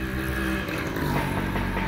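The engine of a 2008 Toyota Corolla 2D runs and revs with a steady, loud, dense roar that holds constant for about two seconds, heard up close with no speech.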